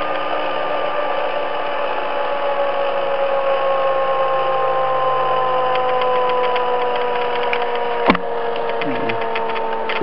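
A pulse motor generator spinning freely as it slows from high speed, a steady close whirring hum with faint repetitive ticking that holds evenly throughout, broken by one sharp click near the end.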